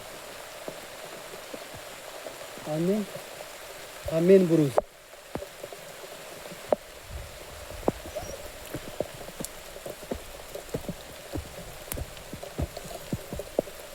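Steady rain patters across Avchitgad fort in the Raigad hills, a dense hiss dotted with sharp drip clicks, while someone speaks briefly near the start.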